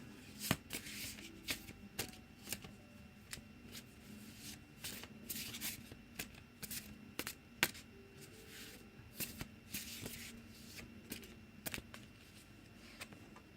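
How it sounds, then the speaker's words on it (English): Oracle cards from the Amira Love Oracle deck shuffled by hand in a quiet room, a steady run of soft riffling bursts and crisp card snaps, fairly close, with no talking. "I will pull one card from the Amira Love Oracle for you."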